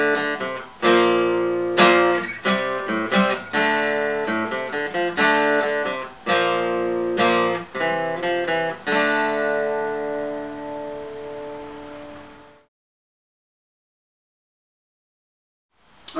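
Electric guitar playing the A section of a song, a clean riff of quick repeated notes and chords in steady rhythm, ending on a long ringing chord that fades to silence, no talking.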